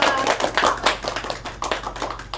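Classroom applause for a student group during a microteaching session, a steady wash of many hands clapping throughout, fairly close and dense with uneven peaks.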